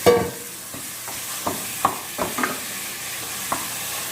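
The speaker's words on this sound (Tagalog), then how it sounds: "Add the meat, the ground chicken." Ground chicken sizzling in a hot pan, a steady hiss with scattered soft scrapes and taps from stirring, close up and moderate in level, with no voices.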